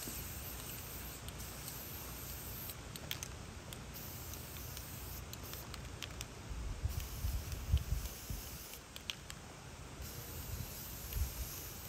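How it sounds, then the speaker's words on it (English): Steady, soft spray-paint hiss while DIY turtle shells for a TMNT costume are coated, continuous across the clip with a few slightly stronger bursts, fairly quiet and close, with no speech. "let me start painting the two lighter shells."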